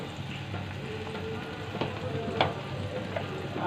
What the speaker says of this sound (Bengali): আর দিয়ে দেব কালি কালো জিরে দিয়ে ভালো করে নেড়ে নিচ্ছি